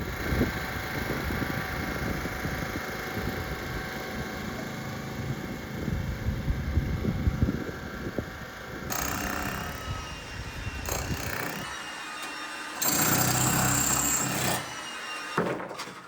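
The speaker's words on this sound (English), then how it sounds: "I rented a demolition hammer, which I hooked straight up to the generator and got straight into action." A rented electric demolition hammer, powered straight from a generator, breaks up hard rock and surface material while a floor is dug out. Loud, continuous rapid hammering runs for about nine seconds, then returns as shorter bursts with pauses.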